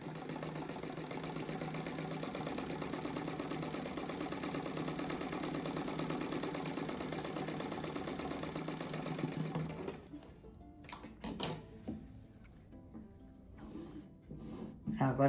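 A sewing machine stitches a patchwork rug in a steady, fast mechanical whir that runs for about ten seconds, moderately close, then stops and gives way to handling clicks and fabric rustling.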